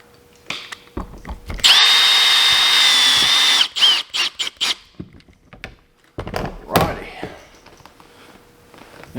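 A power drill whines steadily for about two seconds while driving screws, then gives a few short bursts and clunks as the work continues, with a brief stretch of nearby talking afterward.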